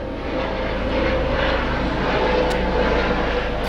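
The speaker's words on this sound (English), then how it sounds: "Well, hello, plane." Propeller aircraft or helicopter passing overhead outdoors, a steady broadband engine drone that fills the whole moment at a constant, fairly loud level with no talking.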